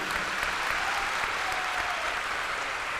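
A crowd gathered at a Krishna Janmabhoomi temple event bursts into loud, sustained applause, dense clapping filling the whole stretch without pause.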